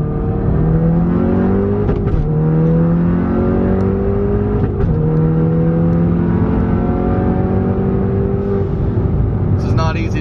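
Tuned VW Golf MK7 pulling hard through second gear, engine note climbing steadily in long rising sweeps with brief dips at shifts, loud and close from inside the cabin.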